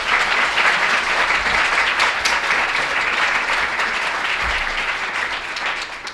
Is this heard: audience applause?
yes